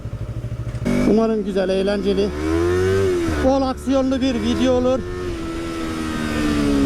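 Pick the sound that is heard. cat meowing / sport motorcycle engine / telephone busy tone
sport motorcycle engine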